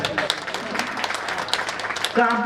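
A gathering at a Jain temple in Patna breaks into a close, steady wash of applause, with a voice cutting in at the very end.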